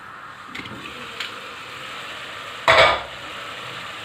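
Masala for fried egg curry simmers in a covered pan, giving a soft, steady sizzle close by. A few faint clinks are followed by one brief, louder scrape of a lid or spoon, with no talking.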